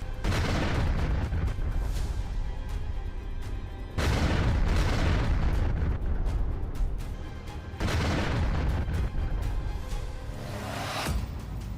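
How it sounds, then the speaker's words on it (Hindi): Heavy bombardment and missile strikes on Kharkiv, Ukraine, heard as three long waves of rumbling booms and crackling blasts separated by brief dips, distant and continuous with no voices. "ओडेशा के बाद खार्किव पर जबरदस्त बमबारी।"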